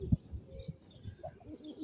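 Military pigeons in a Bangladeshi market coo and call restlessly, a male especially agitated, with a few soft nearby coos and low murmurs over a quiet background.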